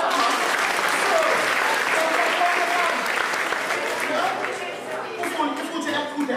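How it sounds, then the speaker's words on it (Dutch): Warm audience applause fills the room, dense and sustained clapping from a crowd for a man being cheered on, steady throughout with some voices faintly mixed in. "Mag hartelijk applaus voor u hoor."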